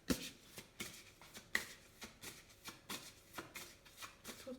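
Angel oracle cards being shuffled by hand, a quiet, close, rhythmic series of soft flicks and riffles repeating about every half second.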